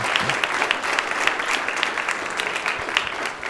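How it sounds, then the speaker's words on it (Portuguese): A church congregation applauds steadily during a service, a dense wash of clapping that stays even and fairly close for the whole stretch, without any voice rising above it. "Vamos aplaudir o Senhor, irmãos, por isto"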